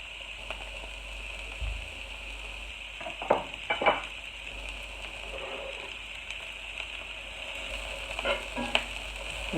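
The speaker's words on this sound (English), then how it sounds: "And we're going to saute this." One small onion sautéing in a pan for an Italian pork stew, giving a steady, close sizzle with scattered crackles and the occasional scrape of stirring; no one speaks.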